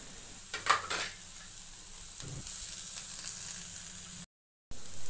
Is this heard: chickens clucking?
no